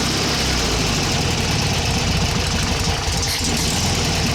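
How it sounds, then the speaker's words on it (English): A VW 1600 dual port engine with its carburetor idles loudly and up close in a steady, continuous rumble with a faint irregular knocking texture and no voices. "This particular carburetor idles pretty darn good"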